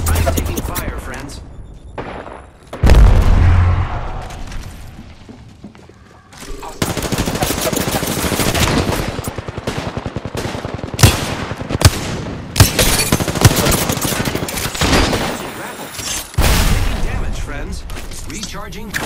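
Gunfire in the Apex Legends Arenas video game: bursts of rapid shots and sharp single cracks, loud and dense through most of the stretch, with brief pauses and game voice lines mixed in.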